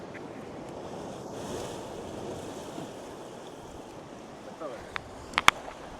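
Soft, steady wash of surf rolling onto a beach at Madigudde, Bailur, with some wind noise, ending with a couple of sharp clicks.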